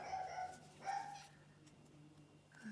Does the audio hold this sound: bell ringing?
no